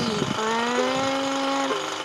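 A whirring drill sound effect from the Troll Face video game runs as a steady, buzzing mechanical drone with a few pitch shifts, fairly loud and close, while a voice chatters briefly over it.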